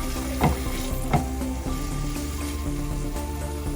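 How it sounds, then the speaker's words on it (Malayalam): Spicy Kerala-style beef fries in a pan over medium flame, a dense, continuous sizzle with occasional stirring scrapes, close and steady without speech. "ഇതിപ്പോൾ ഫ്രൈ ആയിക്കൊണ്ടിരിക്കുകയാണ്."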